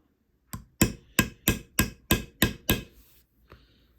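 A hammer strikes a metal stamp on leather in a steady run of about eight sharp, close taps, each with a short ringing tail, then one fainter tap after a pause.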